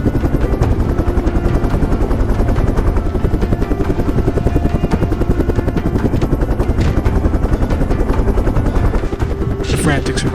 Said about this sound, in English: Suddenly, the sounds of a helicopter begin to cut through the air.